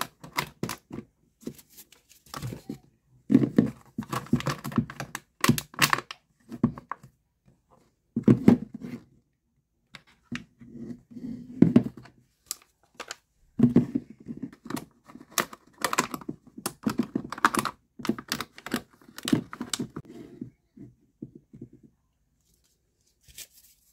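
Cardboard being cut with a blade for holes, a series of short scraping, crackling strokes in bursts with brief pauses, close and fairly loud, no talking.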